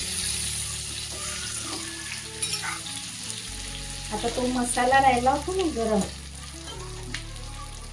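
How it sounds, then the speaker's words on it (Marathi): Steady frying sizzle of stuffed eggplants in a pan, with a voice speaking briefly over it and some stirring clatter partway through. "आता वांगी आपल्याला थोडीशी पलटून घ्यायची आहे एका बाजूने थोडीशी फ्राय झाली आहे"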